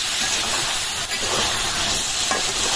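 Ground turmeric and chili powder sizzle and fry steadily in a hot pan, a dense, close hiss with occasional stirring scrapes, heard alone without talk.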